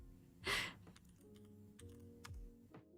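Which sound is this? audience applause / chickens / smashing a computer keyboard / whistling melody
smashing a computer keyboard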